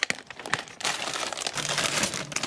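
Close, busy crinkling of a plastic bag holding hardware for a wall-mounted expandable drying rack, with a few sharp rustles and then a continuous dense crackle of handled plastic.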